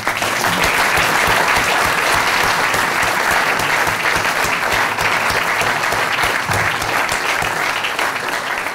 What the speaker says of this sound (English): I'd like to give one more round of applause to all